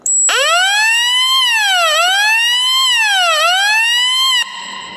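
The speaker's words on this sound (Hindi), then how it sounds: "प्रेस करेंगे तो फायर अलार्म हूटर अपना बजेगा" A fire alarm hooter in a building alarm system wails loud and close, its tone sweeping smoothly up and down in a steady repeating cycle before cutting off, followed by a fainter lingering tone.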